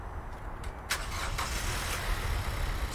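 Car engine cranking and catching after a jump start from a homemade batteryless supercapacitor jump box, brief starter bursts followed by a steady low running rumble, fairly quiet with no talk.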